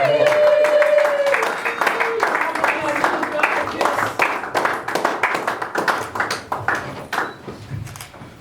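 A church congregation applauds with a steady run of overlapping claps that thin into a looser rhythm, with a voice speaking over the start.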